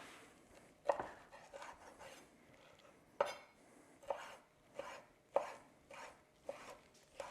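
A knife dices pieces of beef on a cutting board for quesadillas, producing sharp, close knocks spaced irregularly, with quieter slicing scrapes between them and no speech.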